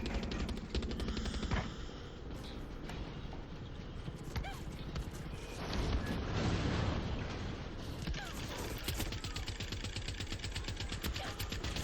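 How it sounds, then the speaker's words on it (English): Automatic weapon fire in the Far Cry 6 video game, loud and dense throughout with rapid bursts over game mechanisms and ambient noise, swelling mid-way; no talk heard. "It's apparently too far for this machine gun."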